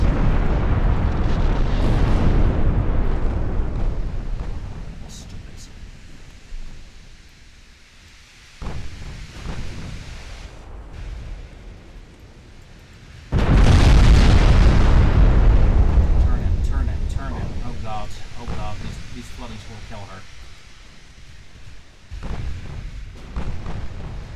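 Battleship guns fire in the Ultimate Admiral Dreadnoughts naval warfare game as deep booming blasts that roll out into long rumbling decays, one of them especially heavy and close, alongside quieter rumble.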